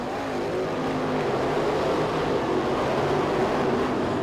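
Dirt-track race cars at a winter nationals night race roar around the track in a continuous, droning engine rumble, steady and moderately distant with no voices over it.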